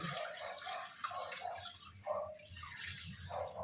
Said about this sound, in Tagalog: Hugasan mabuti ang isda.